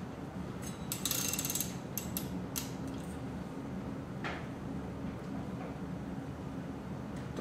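A ratchet tightens a bicycle bottom bracket bolt on a fixed gear bike. A quick burst of close, sharp clicking runs for a second or two, followed by a few scattered ticks against a faint background hum.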